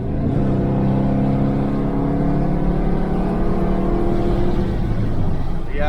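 A 1968 Chevelle Nomad with an engine modified for more horsepower accelerates hard on a test drive, its engine giving a loud, steady, throaty drone from inside the car that holds throughout.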